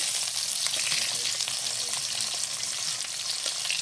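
Potatoes stirred and fried in a pan for a fish curry made without onion or garlic, giving a steady, dense sizzle with faint scraping stirs throughout, close and fairly loud, with no talking.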